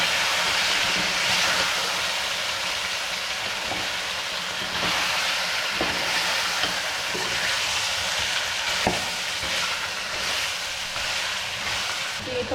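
Chicken and diced potatoes fry in a pot for biryani pulao, giving a steady, loud sizzle with faint scraping stirs throughout, no voices.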